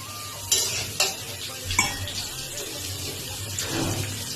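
Potato and eggplant fry in fish oil in a pan with a steady sizzle, broken by several scraping stirs of a spatula at irregular intervals, close up.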